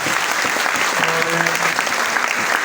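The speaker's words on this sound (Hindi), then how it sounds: "एक बार अपने लिए ताली जोरदार वाली बजा दीजिए" An audience in a polytechnic college seminar hall in Jammu breaks into loud, sustained applause, dense clapping from many hands with some voices mixed in, steady for the whole stretch.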